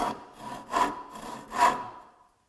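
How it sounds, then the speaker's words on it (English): A rip saw, a hand saw with massive teeth, cuts through wood in three slow, rasping strokes, close up, then stops. "when I start sawing with this one"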